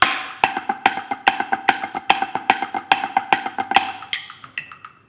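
A snare drum plays a flam accent pattern with the flam on the third partial: crisp, evenly spaced strokes with accented hits and grace-note doubles, close and alone, a few faint extra taps closing the phrase.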